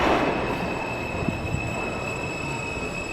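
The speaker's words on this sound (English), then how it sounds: "Oh, this is the M train." A New York City subway M train rolls past at a station, with steady loud rumble, wheel squeal, and a couple of clacks from the rail joints, close by and continuous.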